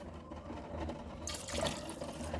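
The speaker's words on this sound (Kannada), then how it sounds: "ನಾನು ಈ ಲೋಟದಲ್ಲಿ 2 ಲೋಟ ನೀರು ಹಾಕ್ತಿದ್ದೀನಿ" Water is poured from a cup into rice in a pot for chicken biryani, a quiet steady trickle that swells into a louder splashing stream halfway through, with no talk.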